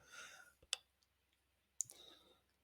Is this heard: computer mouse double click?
yes